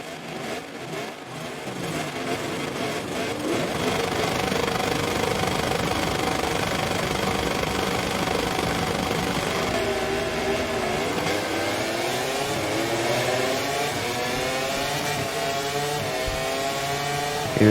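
MotoGP 24 motorcycles launch off the start of the Italian Grand Prix in a video game, a loud dense roar of many engines revving and accelerating together, with rising engine pitch sweeping upward toward the end.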